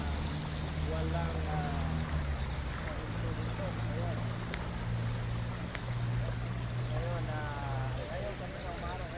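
Rainwater overflowing and pouring during a day of rain in Riyadh, a steady broadband wash of running water under a low hum, with a voice talking over it.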